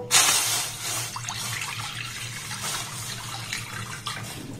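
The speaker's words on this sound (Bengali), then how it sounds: "এবার এখানে ½ লিটার লিকুইড দুধ দিয়ে দেব।" Half a litre of liquid milk poured into a pan over previously thickened milk, a steady close splashing pour that continues throughout, heaviest at the start.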